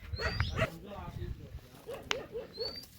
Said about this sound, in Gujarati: મસ્ત ગલુડિયા છે